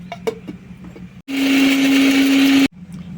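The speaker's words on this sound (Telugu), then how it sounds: "ఇది మిక్సీ పట్టేసుకుందాం." A mixer grinder grinds spice powder for a stuffed bitter gourd fry, a loud steady whine lasting over a second before stopping abruptly, with quiet kitchen clatter before and after.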